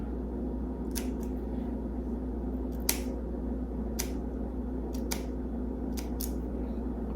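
Scissors snip through the base of a hair system in a string of sharp, close cuts, some single and some in quick pairs, over a steady low background hum.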